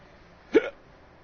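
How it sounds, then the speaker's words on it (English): A single short hiccup from a person, close and sudden against a quiet room. "Oh, freaking hiccups. Go away."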